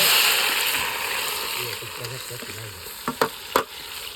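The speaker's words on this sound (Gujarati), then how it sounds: "પછી ડુંગળી નાખી દઈએ." Onions hit hot groundnut oil in a pan, giving a strong close sizzle and fry that gradually settles, with a few sharp clinks of a utensil toward the end and a person talking over it.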